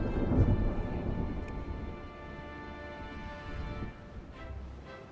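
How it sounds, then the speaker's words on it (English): A thunderstorm rolls in the naval video game Ultimate Admiral Dreadnoughts, with a loud thunder crack at the start fading into steady rain and low rumbling. "it's a storm"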